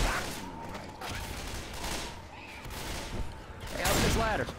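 Gunfire from the zombie shooter Left 4 Dead 2 crackles in scattered bursts through the game's din, with people talking over it and a loud vocal burst near the end.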